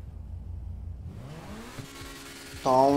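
In GTA 5, a Lamborghini Huracan's engine revs up in a short rising sweep. It is fairly quiet and ends with a sudden louder tonal burst.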